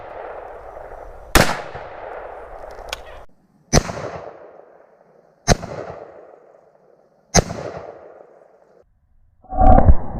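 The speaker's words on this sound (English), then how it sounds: "AR-15 of course is freaking awesome. So he put 3 rounds down range here at the target." Loud AR-15 rifle shots are fired down range at a target outdoors, with four evenly spaced sharp cracks a couple of seconds apart, each trailing a short echo, and a heavier burst at the end.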